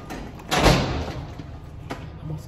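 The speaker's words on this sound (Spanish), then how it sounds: "ellos abren la puerta" The entrance door of a building is pushed open with a heavy thud and a rush of sound, then the noise settles into a quieter hallway ambience.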